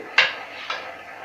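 A spoon clinks on a plate twice during a meal, two short, bright, close taps about half a second apart in a quiet room.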